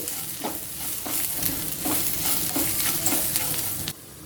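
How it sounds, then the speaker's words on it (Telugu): Ivy gourd pieces fry with onions and turmeric in a pan for groundnut-coconut spice fry, a steady close sizzle broken by repeated scraping stirs, then cutting off abruptly near the end. "ఈ ఉల్లిపాయలతో పాటు ఇంకొక 2 నిమిషాలు ఫ్రై చేసుకోవాలి"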